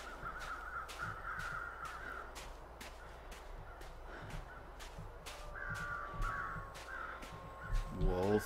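Crows caw repeatedly overhead in The Long Dark, a snowy survival game, with several harsh calls spaced across the stretch over a steady wind-like hiss and a brief low thump near the end.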